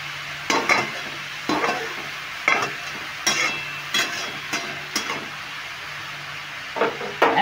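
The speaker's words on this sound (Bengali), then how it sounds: "এবার নুন আর হলুদ দিয়ে এবার ভেজে নেবো, খুব ভালো করে ভেজে নেব" Salt and turmeric being fried and stirred in a pan for chicken pasta, a steady sizzle broken by repeated scraping strokes of a spoon against the pan, close and moderately loud, no talking.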